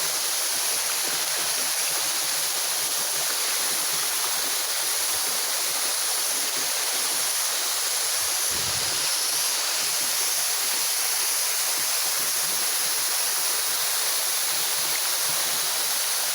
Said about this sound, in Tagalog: Dito sa Anahaw Falls.